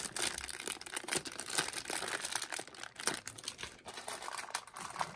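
Plastic packaging bag of an L.O.L. Surprise Sunshine Makeover doll being opened, giving steady close crinkling and rustling with sharp crackles throughout, no talking.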